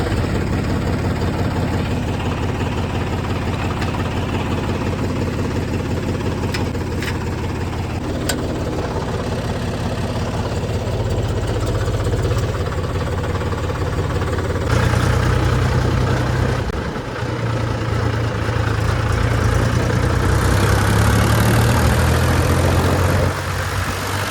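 A parked tractor idles outside a village dairy, its engine holding a steady, close, low rumbling drone for the whole stretch with only slight shifts in tone and no talking.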